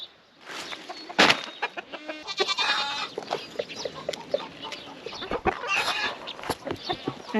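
A rooster clucks and calls while feeding among his hens, with repeated close clucks and brief louder squawks over a busy farmyard background, no talk.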